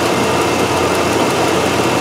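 A Chevy truck engine idles as it warms up with a rich-running fault, a loud, steady, close rumble that holds level throughout.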